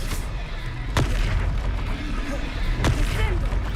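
In the Hogwarts Legacy video game, a disarming spell goes off amid battle, with two sharp bursting impacts over a rumbling, busy combat backdrop, fairly loud and close.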